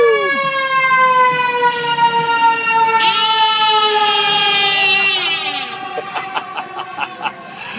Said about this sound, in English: get ready for some loud sirens coming on up here